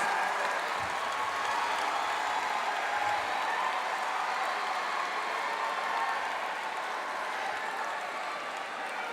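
Large graduation audience applauding steadily at a university ceremony, a dense wash of clapping filling the hall without a break.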